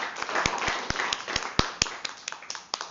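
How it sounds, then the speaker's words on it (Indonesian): A small seminar audience claps at a business system session, producing scattered, irregular hand claps that are fairly close, with a faint murmur beneath. "tepuk tangan dulu"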